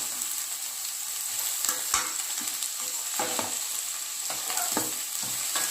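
Sliced cabbage being stir-fried in a pan for spicy egg Maggi noodles: a steady close sizzle with repeated scraping and tossing strokes, no voices.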